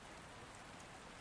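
Steady, dense rain falls continuously without a break, a soft even hiss of drops hitting surfaces with no voices or other sounds over it.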